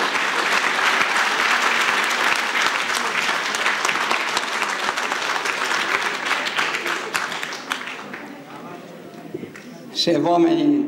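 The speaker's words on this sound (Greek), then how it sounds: "έτσι ώστε να μας δοθεί ευκαιρία να τον χειροκροτήσουμε" An audience at a book presentation for the novel "Το Μαύρο Μάμπα" applauds its author, a dense and loud burst of clapping that thins out toward the end before a voice starts to speak.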